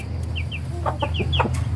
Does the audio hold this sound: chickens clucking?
yes